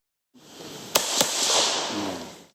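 Two sharp gunshots fired in quick succession, about a quarter second apart, during soldiers' shooting practice with a tank brigade, ringing out outdoors over steady wind-like background noise.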